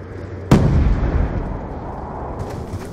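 A single sharp sniper rifle shot in Black Ops 2 team deathmatch, loud and close, then a long rumbling echo that trails off, with faint noise afterward.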